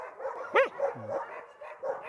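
A Yakutian laika hunting dog, a female, gives one sharp, close bark followed by a short low whine, over a faint background murmur.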